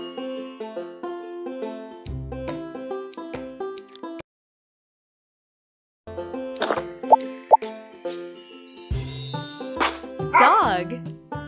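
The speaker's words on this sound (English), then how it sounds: "Dog." Cartoonish dog barking in a kids' guessing game, short yips over bouncy music and plopping effects, with a silent gap midway and other sound effects afterward.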